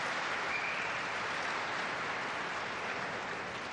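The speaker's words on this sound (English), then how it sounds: "Big applause on an outside table" Distant applause rises from an outside table in a pool championship hall, a steady wash of clapping heard faintly and evenly throughout.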